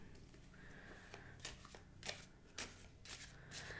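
A deck of tarot cards is shuffled by hand, with soft riffling flicks and a few sharper card snaps repeating over a low background hum, quiet and close, with no talking.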